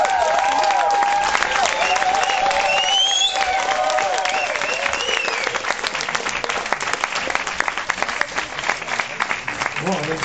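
A concert audience gives loud applause for a singer, dense clapping throughout with crowd cheers and voices mixed in.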